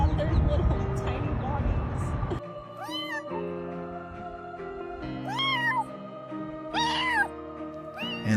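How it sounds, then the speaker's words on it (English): A kitten cries out in loud, rising meows, repeated several times with short pauses, close by after a noisy opening. "this little homeless kitten's loud cries for help caught the attention of humans"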